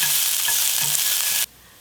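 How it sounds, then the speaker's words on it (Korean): Paprika stir-frying in a large frying pan: a steady, loud broadband sizzle with faint stirring scrapes, running continuously and then cutting off abruptly near the end. "큰 후라이팬에 파프리카 쬐끔 볶아"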